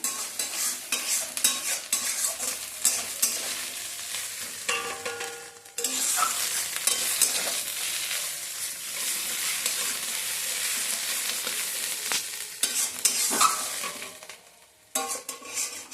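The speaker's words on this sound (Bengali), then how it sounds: "এটা যে শিলে বাটা হয়েছে বাঁধাকপিটা, বেটে তারপরে এই যে ভাজা হচ্ছে তেলে" Cabbage paste, ground on a grinding stone, frying in oil in a pan, with a loud continuous sizzle broken by repeated spatula stirring and scraping, brief pauses, and no talking.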